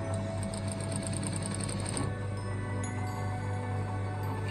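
A sewing machine stitches horsehair braid onto fabric, running steadily and evenly at close range, with a continuous motor hum and fast needle rhythm and no pauses.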